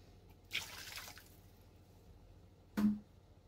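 Water is poured into a pot of Egyptian koshari while it cooks, in two short splashing bursts about two seconds apart, close and moderately loud against a quiet kitchen background.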